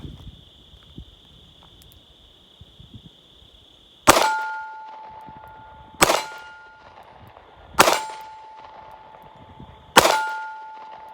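Gunshots strike a steel target: after a quiet stretch with a faint steady tone, four loud, close shots land about two seconds apart, each answered by a sharp metallic clang that rings on briefly.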